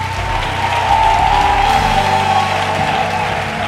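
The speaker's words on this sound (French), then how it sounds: "Acclame Jésus" A church congregation bursts into loud, sustained applause mixed with cheering and whoops, a dense crowd roar filling the space for several seconds.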